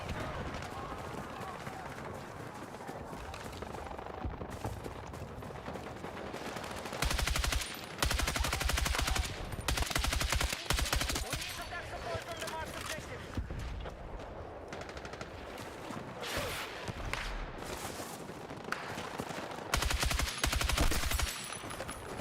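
Repeated bursts of B36 rifle fire in Battlefield 6 come as loud, rapid automatic volleys of a few seconds each, separated by quieter stretches of game ambience and occasional speech.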